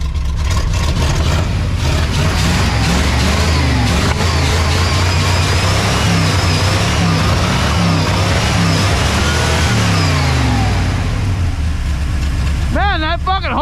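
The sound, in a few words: 1979 Ford F-250 truck engine revving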